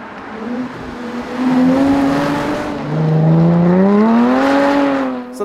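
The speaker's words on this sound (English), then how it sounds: "as you can hear, that exhaust note is just amazing" A 2013 Jaguar F-Type sports car engine revs and rises in pitch twice, a loud throaty exhaust note climbing and falling, close and without talk.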